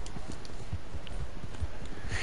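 Horse hooves clip-clop at a steady walking rhythm in Red Dead Online, a series of soft, fairly close thuds over a continuous game background with no speech.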